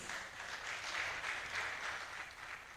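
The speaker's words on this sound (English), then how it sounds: "A round of applause, please." An audience at an International Youth Day event claps, a dense wash of applause that swells and holds steady, moderately loud and unbroken for a few seconds.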